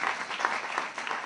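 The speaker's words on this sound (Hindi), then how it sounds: "उस पर ताली हो जाए" An audience claps briefly at a talk, a short burst of steady applause lasting just over a second.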